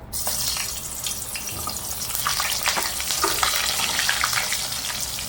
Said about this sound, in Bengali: ওই তেলের মধ্যে আমি বেগুনগুলো এক এক করে ভেজে নেব